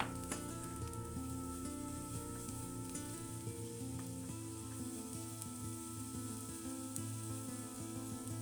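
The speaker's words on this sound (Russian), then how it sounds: "После этого добавляем шампиньоны и все вместе обжариваем около 5 минут." Onion and champignon mushrooms fry together in a pan, giving a steady, dense sizzle that holds at an even level throughout, with faint tonal background sounds mixed in and no speech.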